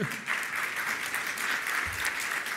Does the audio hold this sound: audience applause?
yes